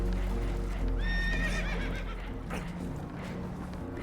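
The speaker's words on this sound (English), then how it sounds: "Horses are spooked, and we're taking on water." Spooked horses in Red Dead Redemption 2 let out a loud quavering whinny over a constant heavy rumble, with hoof clatter and shuffling around them.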